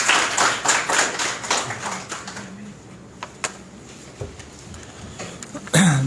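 Audience applause welcoming the chief guest at a conference, a burst of clapping from a hall crowd that fades into scattered claps and room noise.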